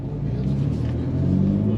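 A Ford Raptor V6 idles with its exhaust in sports mode, a steady deep rumble heard close up for a couple of seconds.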